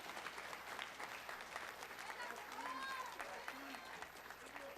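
Applause for honored faculty at a college honors convocation sounds as a steady wash of clapping through a distant, quiet room, with an announcer's voice and some tonal sounds over it.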